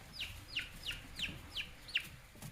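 A chicken clucks repeatedly in a regular series of short, descending calls, about six in a row, moderately close against a quiet background.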